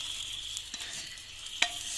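Mango pulissery curry is stirred and mixed in a pan, giving soft, close scraping and a few light clinks over a low background hiss.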